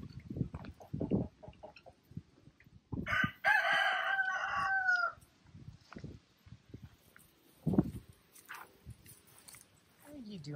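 Backyard chickens cluck softly in short bursts, then a loud rooster crow rings out for about two seconds; a few murmured voices and rustling follow.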